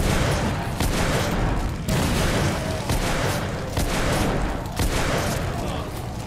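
Repeated heavy explosions from a grenade launcher in The Order 1886 video game, booming blasts arriving about once a second over a continuous roar of battle noise.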